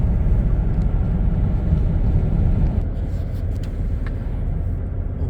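A car rolls steadily along a road in Wisconsin, giving a loud, constant low rumble of engine and tyres that stays even throughout, with only a couple of faint ticks above it and no voices.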